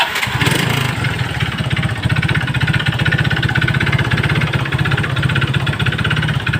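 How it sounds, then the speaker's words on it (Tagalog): Engine of a Suzuki Raider J Fi motorcycle idling after starting, a loud rapid chugging with a rough, rattly grinding like a crushed bearing layered on top, close and steady. "mayroon siyang ingay ng parang durog na bearing"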